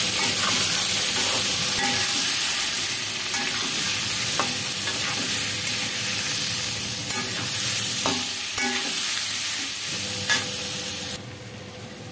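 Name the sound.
potato and papaya frying in oil with turmeric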